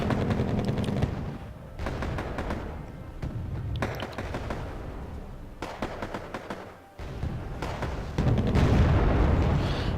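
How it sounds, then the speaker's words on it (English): Artillery fire in the video game Wargame Airland Battle: loud, repeated heavy booms and rumbling explosions crowd together, with rapid crackling bursts between them and no pause in the barrage. "Here comes more very annoying artillery fire."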